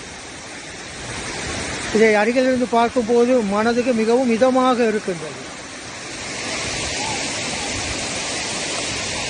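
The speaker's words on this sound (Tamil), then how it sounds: "இந்த நீர்வீழ்ச்சியில் ஓடக்கூடிய இந்த தண்ணீர் சுத்தமான தண்ணீர்" Nanuoya waterfall pours clear water in a steady, broad rushing hiss that runs through the whole stretch, while someone talks over it for a few seconds in the middle.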